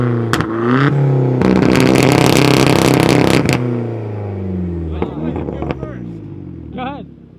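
A car with about 150 wheel horsepower and an open dump pipe revs hard in a loud, sustained roar during a rev battle, then drops back to a rough idle with short blips, while people talk over it.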